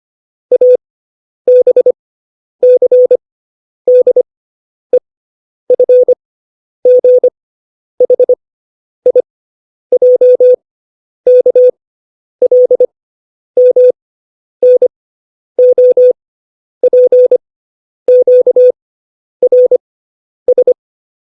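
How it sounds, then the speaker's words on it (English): The full Morse code alphabet is sent as a single clear, steady tone. Crisp dots and dashes are grouped letter by letter with short gaps between them, alone and close for about twenty seconds. "So here's the alphabet on the screen, and here's the Morse."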